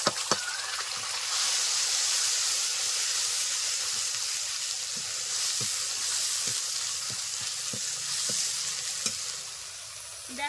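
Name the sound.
mustard-poppy and green chili paste sizzling in oil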